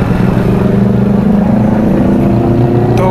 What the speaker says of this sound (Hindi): इतना लाउड है बाइक का एग्जॉस्ट